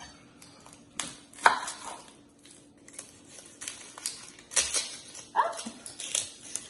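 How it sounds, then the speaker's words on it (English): A knife chopping onions on a board, making irregular sharp close taps spread through a quiet kitchen, with faint background noises and no speech. "But first, let me cut up my onions."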